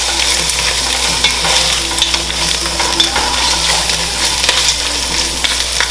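Lobster shells cooking in a pot and being stirred, giving a loud, close, continuous sizzle and scraping over a low steady hum, with scattered clicks and knocks as the shells shift.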